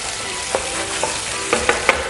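Chicken fillet frying lightly in a pan, a soft steady sizzle with a few light clicks and taps of a utensil near the end, no voices.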